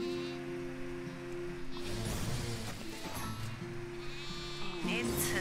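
Goats bleat repeatedly in the farming video game Farm Together, the calls sitting clearly at mid volume over light background music and ambience.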